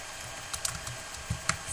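Keys tapped on a computer keyboard while a file name is entered for a Photoshop image, a few scattered quiet clicks with gaps between them, close and faint in a low room hum.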